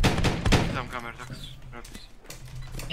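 Gunfire exchange in the survival game Hurtworld: a few sharp shots burst out early, then thin into scattered distant cracks, with players talking over it.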